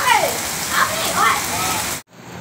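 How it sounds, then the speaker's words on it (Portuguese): Heavy rain pouring down in Tanquinho, Bahia, a dense, steady hiss of drops with voices calling over it before the sound cuts off abruptly. "Chuva forte em Tanquinho"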